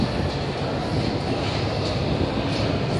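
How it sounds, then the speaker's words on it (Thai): Steady, loud rumble of a Moscow metro train in an underground station, a continuous broadband roar of rolling wheels and rail noise with faint squeal at times, no voices. "นี่ก็เป็นบรรยากาศในสถานีรถไฟใต้ดินหลังจากลงมาถึงด้านล่างแล้วครับ"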